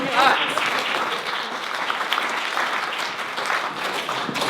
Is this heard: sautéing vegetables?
no